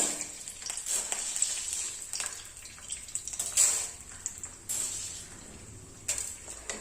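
Urad dal is fried in hot ghee for tomato rasam. The sound is an uneven crackling sizzle with repeated scraping stirs and brief louder bursts, up close and without speech.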